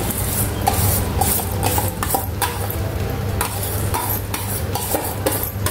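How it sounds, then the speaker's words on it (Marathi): Rice going into a pan for vegetable pulao and being stirred in, a steady scraping stir with light clinks of a utensil against the pot over a constant low hum, with no talking. "तर आपल्याला तांदूळ घालायचा आहे"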